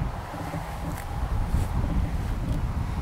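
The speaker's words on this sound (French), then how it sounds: "Je suis en plein vent, vraiment, il y a un vent énorme." Strong outdoor wind roars steadily in low-pitched, buffeting gusts that batter the microphone for the full length, with no other sound standing out.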